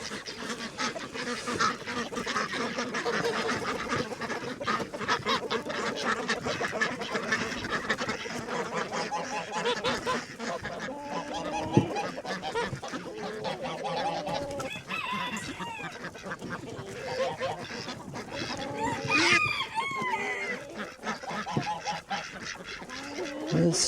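A mixed flock of geese, ducks and chickens calls steadily at low level with overlapping honks, quacks and clucks, plus a few louder close honks.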